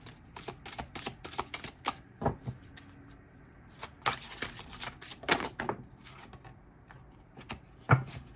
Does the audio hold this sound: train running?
no